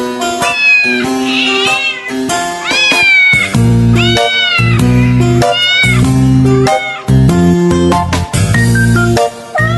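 A cat meows again and again, loud and close, with a string of clear, drawn-out calls that rise and fall in pitch and are separated by short pauses.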